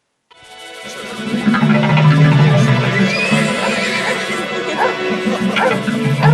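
Hunters' horses gallop across an open plain, with whinnying and neighing rising over a dense, continuous rumble of hooves and animal noise that stays loud and close throughout.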